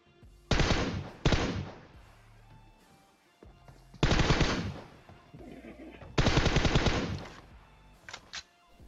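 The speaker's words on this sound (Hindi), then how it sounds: "ये बंदा सप्रेसर से गोली चलाता है" Bursts of suppressed automatic gunfire in PUBG Mobile come in three main volleys of rapid muffled shots, loud and close, separated by brief quieter gaps, with a couple of short shots at the end.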